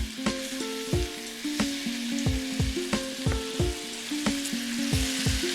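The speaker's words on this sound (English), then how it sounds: "And then to this, I'll add in my chicken breast." Chicken breast sizzles in hot oil in a pan for a sauce dish, a steady loud fry with repeated sharp tonal clinks and scrapes of a utensil or tongs placing pieces in a regular rhythm, no talking.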